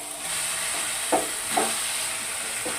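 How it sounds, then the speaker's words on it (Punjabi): Dal roasting in a hot tadka in a pan gives a steady soft sizzle and hiss, with a few brief scraping stirs standing out, fairly quiet and with no voices. "ਦਾਲ ਨੂੰ ਅਸੀਂ 1-2 ਮਿੰਟ ਤੜਕੇ ਦੇ ਨਾਲ ਭੁੰਨ ਲਵਾਂਗੇ"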